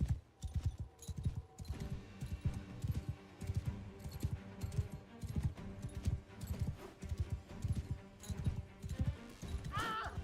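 Horses trot in the medieval combat game Mount and Blade, a steady rapid clip-clop of hooves running throughout, fairly loud, with brief bursts of other game noise layered over it.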